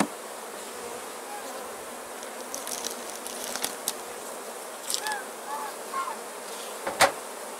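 Honey bees from a first swarm buzz steadily around a hive being set up, a dense, continuous hum with individual bees zipping close past the microphone, louder moments near the end.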